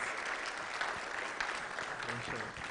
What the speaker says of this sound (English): I'd like you to give him another round of applause for that